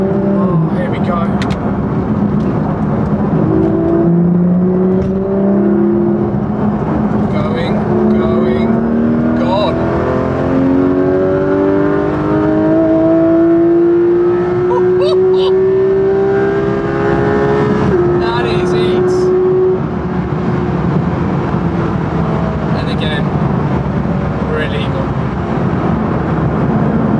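A Porsche GT3 RS with an open Sharkwerks exhaust pulls through rising and falling gears, its loud, close engine note sweeping upward repeatedly over about half a minute, with a voice occasionally audible over it.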